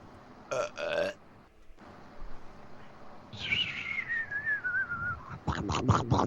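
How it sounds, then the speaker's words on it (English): A cartoon Electro Belch effect: a short burp blast, then a long, whistly electronic tone that slides steadily downward, ending in a cluster of choppy, gurgling belch bursts. "You have been cleansed by the Electro Belch"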